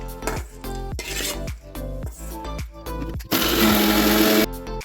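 A kitchen mixie grinds roasted coriander and mint for a cauliflower gravy in several short pulsed whirring bursts, then one longer loud continuous run, close by with no speech.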